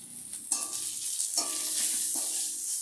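Spices with salt, turmeric and cumin powder fried in oil, a steady bright hiss of sizzling close by with a few soft stirring pulses, quiet and without talk.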